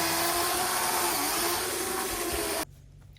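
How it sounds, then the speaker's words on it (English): A power drill whirs loudly and steadily for a few seconds drilling a hole, then stops abruptly, leaving quiet room noise. "First step is to drill a hole through the bottom there."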